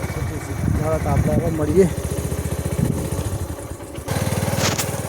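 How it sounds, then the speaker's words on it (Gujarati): A motorcycle on a farm is started and runs with a fast, rhythmic thudding idle close by while someone talks over it, the engine note shifting near the end. "ચાલુ કરીએ બાઇક લઈને હવે જઈશું આપણે ઘેર. જો આ બાઇક ચાલુ કરીએ."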